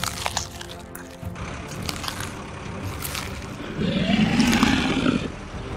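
A tiger in the Animal Revolt Battle video game lets out one loud, drawn-out roar lasting over a second. It stands out clearly against a busy bed of game background noise.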